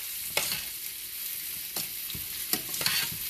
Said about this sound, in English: We're going to stir it up.